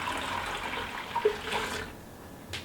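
Milk poured into an Instant Pot, a soft continuous liquid splashing and trickling at close range, steady for about two seconds before tapering off, with a small clink partway through.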